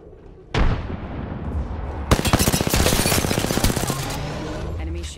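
Rapid bursts of automatic gunfire in Apex Legends, loud and close, starting after a sharp boom and continuing as dense repeated shots with a sustained rumble.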